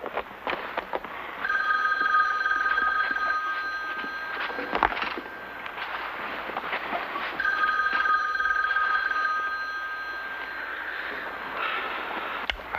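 Old-style telephone bell rings in repeated bursts across a quiet interior, a steady electric trill with a short pause between rings, fairly loud and alone with no talking.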